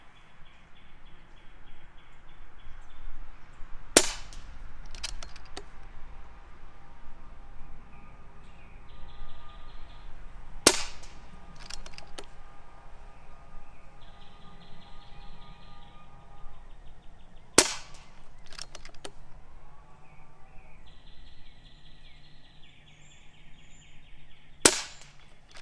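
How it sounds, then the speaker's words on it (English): Air Venturi Avenger .177 air rifle with a wood stock firing outdoors in a breeze: several sharp, isolated cracks spaced seconds apart, each with a brief metallic ring, against quiet ambience with birds chirping. "Let's shoot 5 and see what we get."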